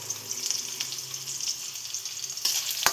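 Onions frying in a pan, a steady close sizzle with faint crackles and a sharper spit near the end, no voices.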